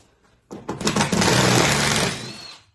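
A power driver whirs steadily for about two seconds while backing screws out of a curved rail template, close and loud after a brief quiet start.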